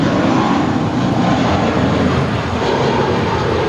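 An airliner at LAX roars down runway 25 right on its takeoff roll, a loud, steady, broadband engine rumble filling the whole clip without letting up.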